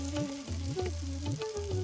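Fish roe sizzling steadily in hot oil in a pan, a continuous close crackle with periodic low stirring or scraping strokes, no voices.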